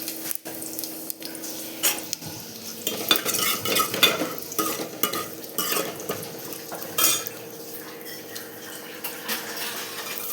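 Cumin and onion fry in a pan with mustard seeds and curry leaves in a South Indian dish, hissing steadily while a utensil repeatedly stirs and scrapes against the metal, close and with no talking.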